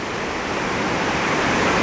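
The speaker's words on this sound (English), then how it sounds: "It is pouring right now." Heavy tropical rain pours down in Costa Rica, a dense, steady roar of water that stays loud and unbroken throughout, with no voices over it.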